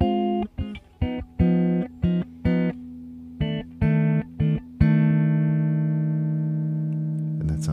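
Electric guitar playing minor 2-5-1 chord voicings with a minor 6 colour, rooted on the fifth string: a run of short, evenly spaced plucked chords, then a final chord left ringing and slowly decaying, close and clear with no talking.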